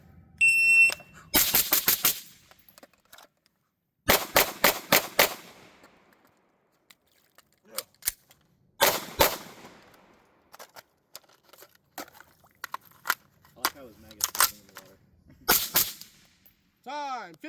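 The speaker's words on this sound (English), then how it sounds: "his first time shooting his AR" AR rifle gunshots at an outdoor shooting drill, loud sharp reports fired in rapid bursts and singles with pauses between, voices briefly heard between strings.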